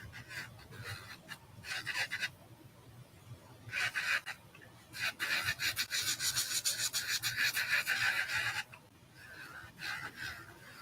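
A nail is buffed with a 180-grit file during a builder gel fill, giving bursts of dry, close rasping strokes, some short and some in a sustained run, with pauses between.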